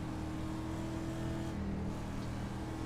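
Dirt street stock car engine in the iRacing sim at Eldora, droning steadily and loudly at a race launch with a constant low rumble and no talk.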